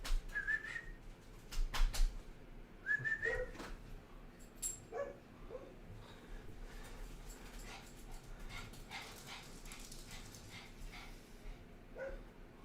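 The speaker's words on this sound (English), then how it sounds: "I have a dog. He's upset with the neighbors right now." Pet dog upset with the neighbors, whimpering in high, rising whines and giving a few soft barks at a distance, repeated over several seconds against steady background noise during a live severe-weather broadcast.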